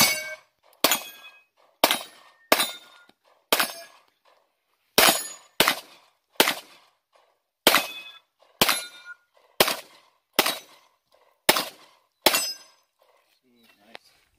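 Pistol shots from a Glock 17 and an M&P Pro 9mm ring off steel targets at a shooting range, a dozen or so sharp cracks in an uneven rhythm, each followed by a bright metallic ping and short decay.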